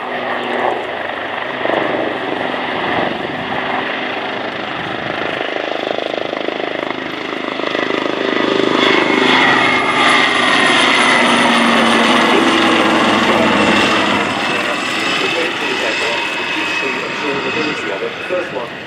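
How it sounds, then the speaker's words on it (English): Royal Navy Leonardo Wildcat HMA2 helicopters of the Black Cats display team pass overhead at the RIAT 2024 airshow, a loud rotor and engine drone swelling and fading, a voice talking intermittently underneath. "the Leonardo Wildcat HMA2s of the Royal Navy Helicopter Display Team"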